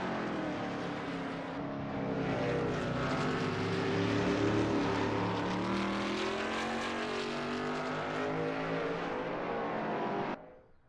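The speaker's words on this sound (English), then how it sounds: "GT350R looks good driving through Hugenholzbach." A Shelby Mustang GT350R at the Zandvoort circuit in a racing video game gives off a sustained engine roar. The pitch rises and falls through gear changes and corners, then the sound cuts off abruptly near the end.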